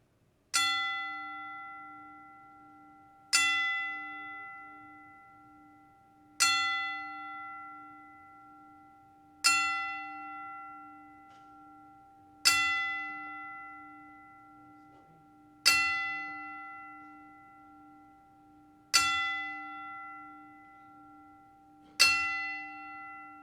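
A bell tolls slowly in tribute to a great man, eight evenly spaced strikes about three seconds apart, each ringing and fading into a sustained hum, alone in a hushed silence.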